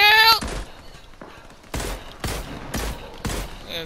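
Gunfire in a video game: a burst at the start, then four loud, evenly spaced heavy shots with sharp onsets and brief tails, fairly close and standing alone without talk.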